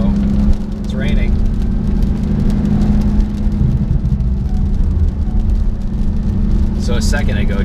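A 2015 Porsche 911 Turbo S on a rain-soaked test road in Mexico, with steady, loud cabin road roar and engine drone, plus tire hiss and spray, while people talk over it.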